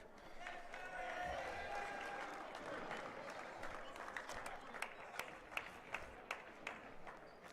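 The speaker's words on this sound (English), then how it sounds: "This may be one of the loudest crowds we have seen so far" A loud crowd roars and claps at a high school boys basketball game between Roseville and White Bear Lake, a dense sustained cheer with sharper claps and thumps toward the end.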